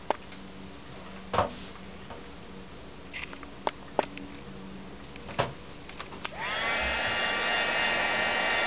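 A hair dryer or heat gun drying paint on a collaged art tag. A few scattered clicks and taps come first, then the dryer switches on into a steady, close, loud blowing whir that continues to the end.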